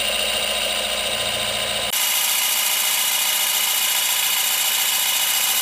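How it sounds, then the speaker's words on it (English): A pump runs steadily while drawing oil out of a Mercruiser boat engine during winterizing, its motor hum turning into a broader, hissing whir partway through and continuing evenly to the end. "I'll turn that pump on. And here comes the oil."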